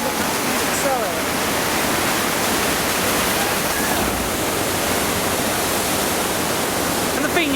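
Poseidon water coaster at Europa Park, a rushing broadband wash of water spray and splashing that stays loud and steady throughout, with faint crowd murmur beneath.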